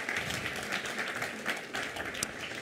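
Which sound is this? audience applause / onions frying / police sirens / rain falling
audience applause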